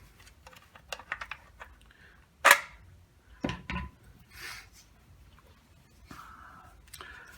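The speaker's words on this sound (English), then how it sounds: "Let's remove our magazine." A PAP M92 AK-style pistol has its magazine removed, making a few sharp metallic clicks and clacks with rustling handling noise in between, close and fairly quiet.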